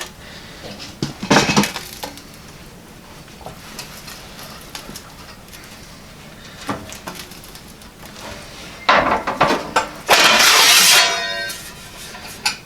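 Sheet metal being bent on a Harbor Freight brake in a hot rod shop, with a few sharp metallic clanks and thumps, then a louder bending crash and rattle near the end, close and otherwise quiet.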